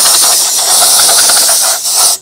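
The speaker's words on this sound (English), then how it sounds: "I'm going to take the air compressor and I'm just going to blow out this intake" An air compressor nozzle blows a loud, steady hiss of compressed air through an HRV intake pipe on a Zehnder ComfoAir 200 unit, close up and continuous before cutting off abruptly at the end.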